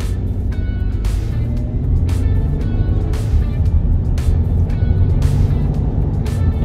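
A 2014 Chevy Traverse pulling away from a stop, heard from inside as a steady, droning engine and road rumble with a rhythmic thumping shudder repeating through the cabin.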